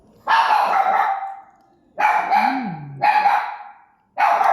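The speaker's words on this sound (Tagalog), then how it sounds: "Ingay po ng aso namin." A dog barks loudly nearby in several sharp bursts separated by short pauses, with no talking.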